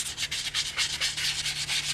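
Wet sanding of a cast stone phone stand by hand with sandpaper, a rhythmic scratchy rubbing in quick back-and-forth strokes, close and steady with no voices.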